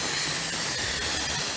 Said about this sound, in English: because it's done, we're gonna turn it over to a quick release